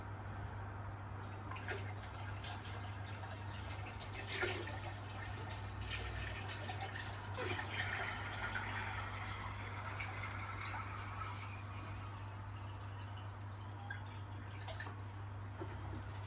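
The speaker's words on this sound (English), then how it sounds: "we're going to pour in the water slowly" Water is poured slowly into a Fluval Flex aquarium tank, giving a continuous soft trickling and splashing wash under a steady low hum, with no talking.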